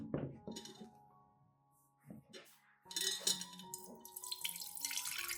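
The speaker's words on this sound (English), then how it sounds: "I completely strain out the tea residue and keep only the clear liquid for use." Tea liquid being strained to remove the leftover residue, with water pouring and trickling into a container amid light glass clinks; the sound comes in separate bursts, close and fairly quiet.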